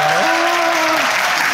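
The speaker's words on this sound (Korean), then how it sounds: "박수 부탁드립니다." Audience applause at a talk introducing a guest, a full, even burst of many hands clapping close, with a brief tonal hum in the background.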